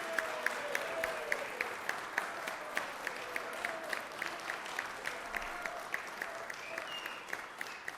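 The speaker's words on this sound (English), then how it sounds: "give them a big round of applause" Applause in a Georgia Senate chamber for two young women being honored, a steady patter of many hands with sharper individual claps poking through, moderately distant and sustained throughout, with faint murmuring beneath.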